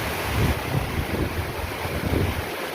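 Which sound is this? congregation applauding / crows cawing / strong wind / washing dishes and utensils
strong wind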